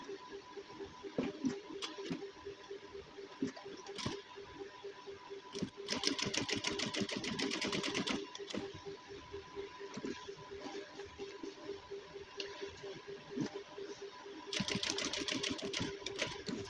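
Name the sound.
sewing machine stitching a gents suit front placket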